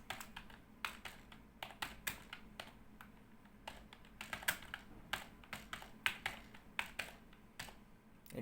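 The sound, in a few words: typing code on a computer keyboard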